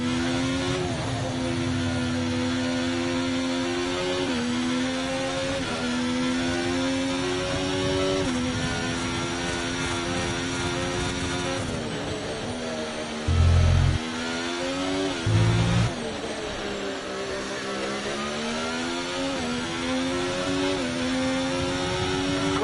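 F1 car engine in the F1 2024 video game at the Austrian Grand Prix, its internal combustion engine showing wear: a sustained high-pitched racing whine that rises and falls through gear shifts, with two brief low thumps near the end, loud and continuous.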